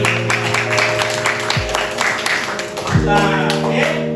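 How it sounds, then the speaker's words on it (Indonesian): Students in a classroom clap together in a burst of applause, steady rapid claps filling the space, while an adult voice talks over them. "tepuk tangan dulu."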